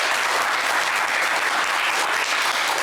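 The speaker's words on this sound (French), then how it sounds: "on va vous applaudir quand même très, très fort" Studio audience on a TV game show applauding, steady dense clapping filling the room for a few seconds, moderately loud with no talk over it.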